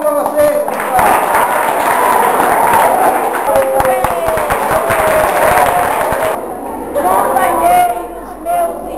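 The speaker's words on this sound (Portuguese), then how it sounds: "Uma salva de palmas para vocês, pessoal!" Applause for the teachers at a Brazilian school gathering, a crowd clapping loudly for several seconds with voices talking and calling over it before it thins out near the end.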